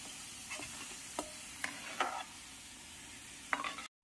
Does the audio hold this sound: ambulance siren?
no